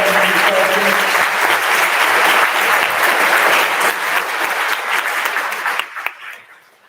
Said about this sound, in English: Let's give them one of the faculty and round of applause